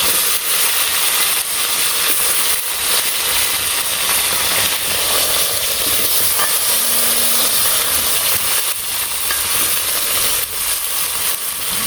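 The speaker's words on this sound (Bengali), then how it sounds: "টমেটোগুলো ভেজে নিই।" Tomatoes fry in hot oil, heard as a loud, continuous, close-up hiss that stays steady and unbroken throughout, with no voices.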